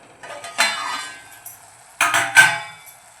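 A lid comes off a cooking pan of methi bhaji with a few close metallic clinks and scrapes, separated by short quiet gaps.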